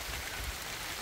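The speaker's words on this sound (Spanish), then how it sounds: "Un poquito va a llover" Rain falling steadily on a cornfield, a dense, even hiss of drops that fills the moment without pause.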